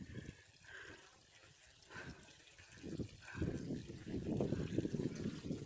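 Water trickling and running over the ground of a wet, slippery hillside trail in the English fells, a faint steady babble that swells louder toward the end.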